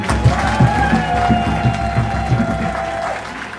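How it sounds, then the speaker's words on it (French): Sustained crowd applause welcomes the Congo-Brazzaville delegation at an anniversary celebration, a dense continuous wash of clapping over steady music with a thumping beat. "la chaleureuse délégation qui nous vient du Congo-Brazzaville. Est-ce qu'on peut applaudir?"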